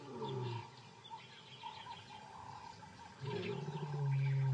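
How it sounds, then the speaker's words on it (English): White lions roar far off, about two miles away, in the African bush: faint, low, drawn-out rumbling calls that swell again toward the end over soft ambient noise. "they are 2 miles away, Zyra can hear her brothers roar to identify their location"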